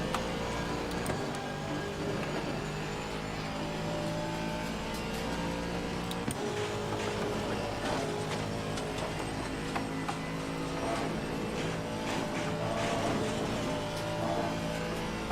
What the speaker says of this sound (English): I can just hear the car, it just does not want to go coming out of there